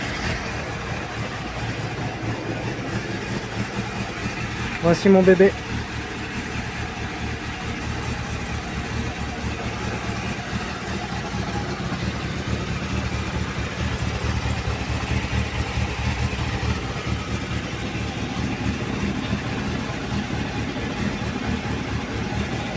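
A motorcycle engine idles steadily to warm the oil during a cleaning session, a continuous low rumble with a brief louder moment near the start and a short spoken remark over it.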